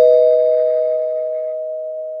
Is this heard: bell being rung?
yes